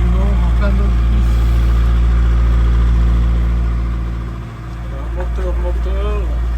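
Sailboat motoring under engine power while heading for the Chalki bridge off Evia in Greece, a steady low engine drone running loud and unbroken throughout, with a voice speaking over it.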